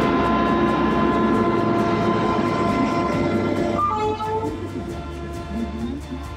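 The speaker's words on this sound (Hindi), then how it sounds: "थोड़ी देर में ट्रेन आ जाती है।" A passenger train pulls into a station platform, a steady loud rumble with rhythmic clicking of wheels over rail joints, a horn-like tonal hum, then squealing brakes as it slows and the noise gradually fades.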